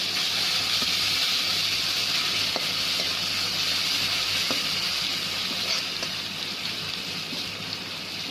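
Ginger garlic paste for a fish curry fries in a pan with a steady, close, continuous sizzle and hiss that holds at an even level throughout, with no voices.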